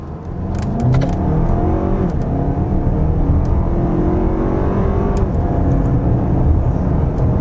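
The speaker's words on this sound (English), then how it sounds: "Nice strong engine." A 2023 Lexus RX 350 turbocharged four-cylinder engine accelerates hard and close on a back road, its pitch climbing through the gears with a steady loud roar and brief dips between shifts.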